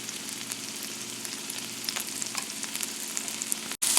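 Meat frying with spinach and potatoes in a hot pan, a dense continuous sizzle with crackling pops throughout, close and loud, briefly cut out near the end.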